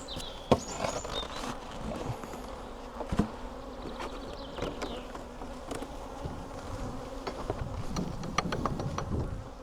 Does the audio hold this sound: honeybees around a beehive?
yes